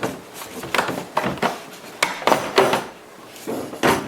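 A cut plastic piece is worked loose and pulled out of a molded plastic tool case, giving a close series of irregular hollow clicks, knocks and creaks in uneven bursts, without speech.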